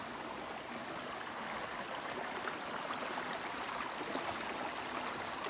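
River water flows steadily and softly in a forest during a hike in Grenada, a constant broadband rush and trickle with no talk, faint throughout.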